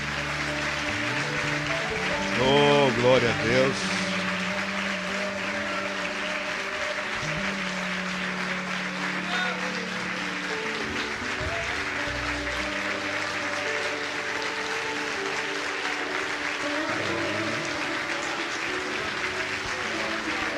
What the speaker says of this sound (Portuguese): Aplauda ao Senhor na vida do servo dele.